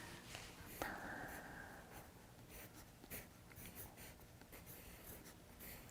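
Soft scratching of a pen or marker writing on paper while drawing an ellipse for an arts lesson, quiet continuous strokes with small pauses and no talking.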